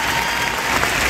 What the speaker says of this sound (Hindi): एक बार सब लोग मिलकर जोरदार तालियां बजाएं